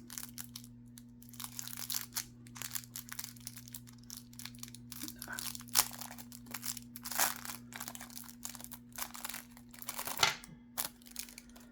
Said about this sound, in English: Half the video will be me opening up this plastic bag.